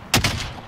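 A quick pair of gunshots in Call of Duty Warzone, two sharp close cracks in under a second with a short tail after.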